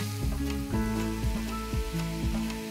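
Pork belly sizzling in a pan while it is basted with sticky char siu marinade, a constant close crackling fizz with intermittent clinks and scrapes of a utensil against the pan.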